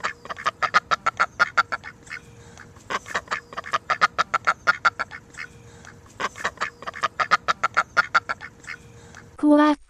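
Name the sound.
duck quacking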